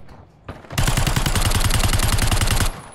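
Rapid automatic gunfire in the video game Warzone rattles in a dense, continuous burst for about two seconds, loud and sustained, after a single sharp shot, with no talking.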